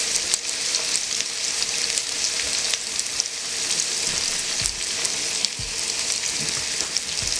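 Onions frying in hot oil for a meat pie hiss with a steady, dense sizzle, with occasional louder pops and crackles, close and continuous with no voices.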